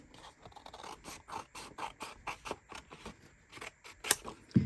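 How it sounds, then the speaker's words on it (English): Scissors snipping through folded paper along the fold line for a junk journal pocket, a quick series of crisp, close cuts in a steady rhythm. "You're going to cut this in half on the fold line."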